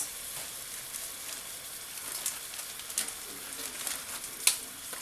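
Crushed tomatoes hitting a pan of golden sizzling garlic and onion, a soft continuous frying hiss with scattered crackles and pops, fairly quiet and close, no voices.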